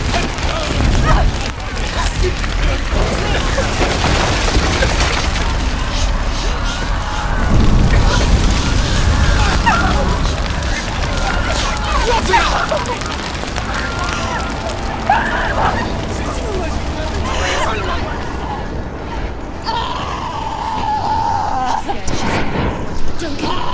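Fire and explosions in Hellblade: Senua's Sacrifice, a continuous roaring rumble of flames with repeated heavy booms throughout, under loud shouting voices urging her to run.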